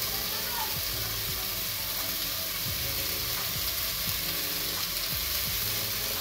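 Tomato, capsicum and carrot fry in a pan for a pasta dish, giving a steady loud sizzle throughout with occasional scraping stirs, close up and without any voices.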